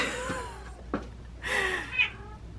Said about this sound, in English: Oh, we have a cat.